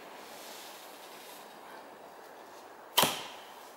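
A single fiberglass fishing arrow is loosed from an Oneida Phoenix compound lever bow: a quiet ambient hush, then one sharp, brief snap that fades quickly.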